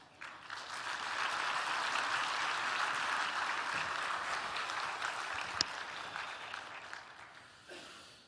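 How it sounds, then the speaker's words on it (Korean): Warm audience applause welcoming a pastor at a church teachers' seminar in Ulsan, South Korea, swells quickly and holds steady for several seconds before fading out near the end. "뜨거운 박수로 우리 목사님 환영으로 맞이해 주시기 바랍니다."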